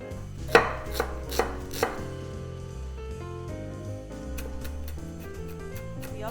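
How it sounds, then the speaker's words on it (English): A kitchen knife minces a shallot finely on a cutting board: a few crisp, sharp chops up front, then quieter, rapid tapping strokes under a soft sustained musical background. "So I would just take half of this and just mince it really thin"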